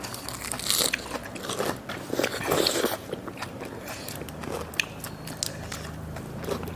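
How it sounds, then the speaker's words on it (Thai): Crisp vegetables eaten alongside a spicy squid and pickled field crab salad, heard as close, repeated crunching bites and chewing in uneven bursts with no talking. "พักกรอบๆนะคะ ผักกรอบมาก"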